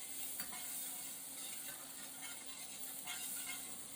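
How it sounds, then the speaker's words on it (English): Minced shallots frying in melted butter give a soft, steady sizzle and hiss, faint and close, with light stirring scrapes and no talking. "I'm gonna add my shallots directly to that."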